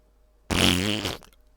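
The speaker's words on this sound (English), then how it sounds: "A fart. Does that not suit it perfectly?" A fart sound effect from a sound effects library, one loud, close, buzzy blast lasting under a second with a short sputter at the end, set against silence.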